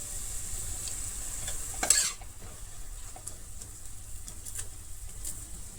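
Poppy seed posto cooking in a home kitchen pan gives a steady, fairly quiet sizzle with light stirring scrapes, and a brief louder scrape or clatter about two seconds in.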